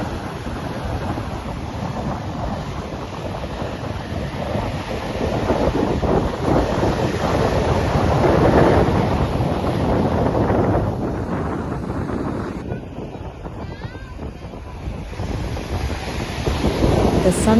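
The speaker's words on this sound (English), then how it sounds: "with the gentle sound of waves and occasional fishing boats bobbing in the sea" Gentle sea waves wash continuously onto the shore at Marari Beach in Kerala, a steady broadband surf with soft swells and light wind buffeting, no voices.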